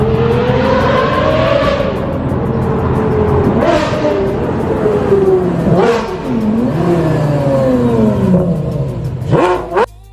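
Porsche Carrera GT supercar with a race-derived V10 engine revving hard, several rising and falling sweeps of loud, close engine roar with no talking, ending in a sharp high blip.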